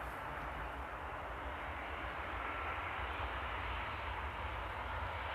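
A Boeing airliner lands at Amsterdam airport in the rain, its engines a distant, faint, steady rumbling wash that continues evenly with no voices.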